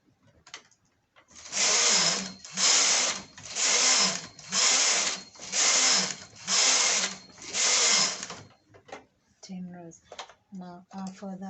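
A knitting machine knits rows of a skirt. The carriage rasps across the bed in seven even, loud passes, one after another, and some clicks and handling noises follow.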